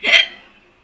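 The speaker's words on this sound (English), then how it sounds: "Hiccups" A single sharp hiccup, loud and close, with a brief tail fading to silence.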